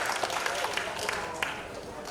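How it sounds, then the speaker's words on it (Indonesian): A church Christmas service audience claps steadily, a dense wash of applause from many hands throughout, with a voice faintly audible underneath. "Tepuk tangan buat Tuhan Yesus yang datang buat kita"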